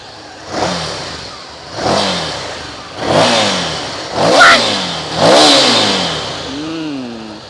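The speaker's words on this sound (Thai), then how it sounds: "เดี๋ยวเรามาฟังเสียงท่อเดิมคร่าวๆของคันนี้กันบ้างนะครับ" A 2020 Ducati Scrambler Icon on its stock exhaust, revved five times in a row. Each blip rises sharply and falls back to idle, loud and close, with no talking.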